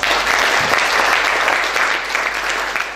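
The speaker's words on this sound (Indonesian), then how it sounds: "Tepuk tangan dulu untuk Tuhan." A church congregation at a Promised Land Ministry service claps in praise to God. The applause is loud and continuous, a thick wash of many hands with no pause from start to finish.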